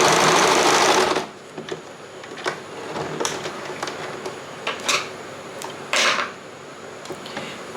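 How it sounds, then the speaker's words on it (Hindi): Home sewing machine running a zigzag stitch along a dress seam: a loud steady whir that stops after about a second, followed by quiet clicks and small metallic taps of handling. "मेरे स्विंग मशीन में इंटरलॉक नहीं है, तो मैं जिगजैग स्टिच करके इसको लॉक कर दूँगी सबसे पहले।"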